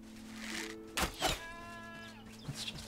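A goat bleats in the video game Enshrouded, a single wavering nasal cry rising out of a low ambient hum, close and clear with a couple of soft thumps around it and no talking.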